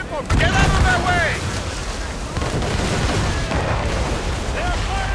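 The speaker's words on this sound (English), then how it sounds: "They're firing mortars!" Ships fire mortars in a naval battle in Assassin's Creed Rogue, with a heavy boom followed by rumbling blasts and crashing water under shouted voices and battle noise.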